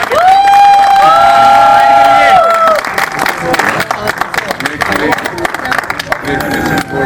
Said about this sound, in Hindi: एक बार जोरदार वाली तालियां सुनील जी बासा